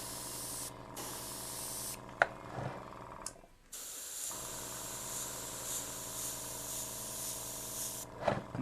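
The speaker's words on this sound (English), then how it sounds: "we're also going to give it a bit more on the airbrush" An airbrush sprays paint onto a miniature model of a brick-built vehicle, a long, close, steady hiss broken by a brief pause and a few small clicks and taps.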